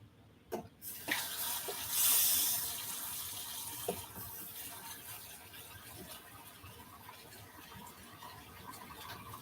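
Water running from a tap and overflowing as a container fills, a splashing gush that swells briefly then settles into a steady trickle, with a few knocks and rattles nearby.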